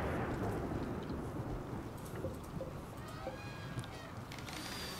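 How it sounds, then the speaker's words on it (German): A thunderstorm in the video game RimWorld, with heavy rain hissing steadily and a low rumble of thunder fading, plus a few brief synthetic tones near the end. "und es gewittert"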